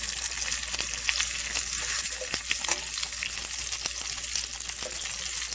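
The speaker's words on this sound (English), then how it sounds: "Now you cook these in the pan until they're done and the juices run clear" Breaded pork chops fry in a pan after a good sear, producing a dense, continuous sizzle dotted with quick pops and crackles at steady volume.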